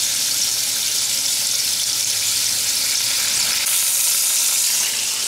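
Bacon frying in a pan with a splash of Mountain Dew and A1 sauce, a steady loud hiss and crackle filling the whole stretch, close and unbroken with no talk.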